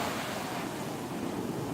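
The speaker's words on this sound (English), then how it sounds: "just take a peaceful video of the waves" Ocean waves wash onto the shore in a continuous broad roar, with wind buffeting the microphone throughout.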